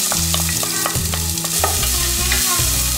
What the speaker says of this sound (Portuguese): eu vou colocar um pouquinho de azeite aqui, ó